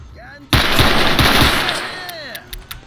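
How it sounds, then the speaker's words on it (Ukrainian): Automatic gunfire erupts suddenly in S.T.A.L.K.E.R. Anomaly: a loud, close rapid burst that decays over a couple of seconds, followed by a few sharper, separate shots. "Тихо, там хтось стріляє."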